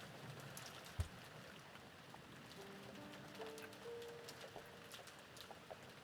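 Rain falling in a dark, quiet house in the Umineko visual novel, a soft steady patter with a few sharper drops and a faint low tonal drone underneath.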